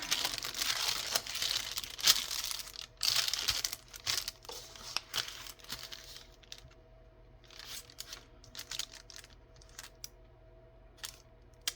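Sheets of baking paper crinkle and rustle close up in a steady stream of sharp, papery crackles that thin out into sparser handling noises toward the end, with no voices.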